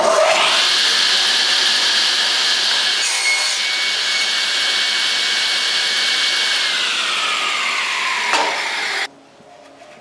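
An SB12 table saw with its included blade rips through cypress, a steady high whining cut lasting about nine seconds at close range before the blade exits and the sound drops to a quieter spin-down.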